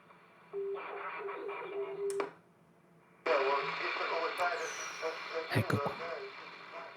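Citizens band radio receiving, a short steady tone and crackly transmissions coming through the speaker, with a brief gap and then noisier reception and clicks near the end.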